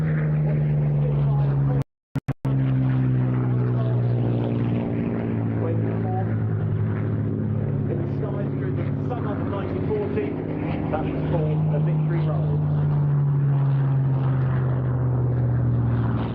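A Hawker Hurricane propeller fighter flying at a Scottish airshow gives a loud, steady droning engine note that holds throughout, broken only by a brief drop near the start.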